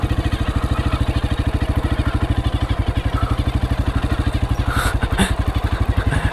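A Honda CRF230 dirt bike idles in first gear with the clutch out, a steady, fast, even thumping pulse from the single-cylinder engine, close and continuous, with a faint clatter near the end.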